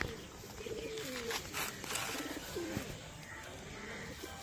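Pure black band-tailed pigeons kept at a home loft coo softly nearby, several low, rounded calls rising and falling over quiet background noise.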